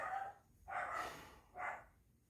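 A dog barks three times at an unhurried pace, faint and some distance away.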